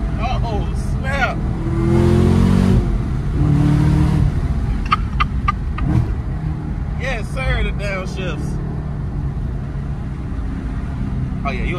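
A Chevrolet Camaro ZL1 in Arctic Blue revs and accelerates hard with audible downshifts, its engine roar loud and close while people talk and react excitedly over it.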